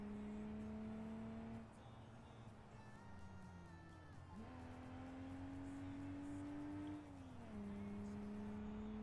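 A car fitted with a sports exhaust drives in the BeamNG.drive video game, its steady engine drone rising and dropping through shifts, loud and close with no talk over it.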